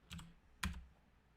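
Two quick keystrokes on a computer keyboard, close and faint, spaced about half a second apart and followed by quiet.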